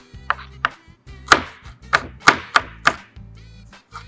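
Onions chopped with a knife on a board by a learner, roughly ten separate sharp chops at an uneven, unhurried pace, close and clear with no talk.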